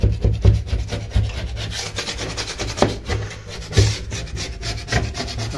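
A hand scraper stripping paint from a staircase wall, giving repeated close, rough rasping strokes in an uneven rhythm, loud and without any talk.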